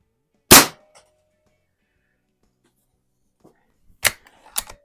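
A Hatsan Model 95 air rifle fires a pellet with one sharp, loud crack, followed a few seconds later by two more quick cracks or impacts close together.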